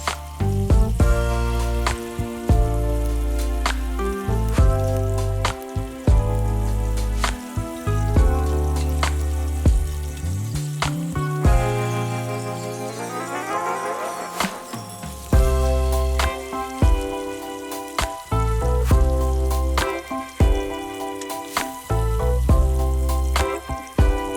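Liquid goes into a pot of oxtails being cooked down for pot liquor, with a steady watery splash and sizzle running under layered background music throughout.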